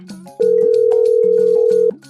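A phone rings with a loud, steady electronic tone, one long sustained note over a pulsing lower melody for about a second and a half, close and clear with no talk over it.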